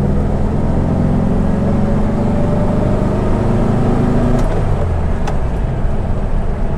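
A Volkswagen Fusca (Beetle) running, a steady close low engine drone with a brief shift in pitch partway through, no talking.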